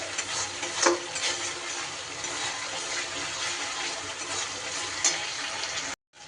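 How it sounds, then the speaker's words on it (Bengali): Egg curry masala sizzles steadily in hot oil as it is sautéed, a continuous broadband frying hiss with occasional stirring clinks, cutting off abruptly near the end. "সব কিছু দিয়ে খুব ভালো করে আমার কষানো হয়ে গেছে।"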